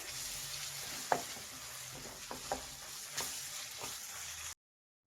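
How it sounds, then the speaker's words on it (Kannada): Onions with turmeric fry quietly in a pan, a soft steady sizzle broken by a few sharp clinks and scrapes of stirring, with a sudden cutoff near the end. "ಸ್ವಲ್ಪ ಹಸಿ ವಾಸನೆ ಹೋಗೋವರೆಗೂ ಫ್ರೈ ಮಾಡಿ."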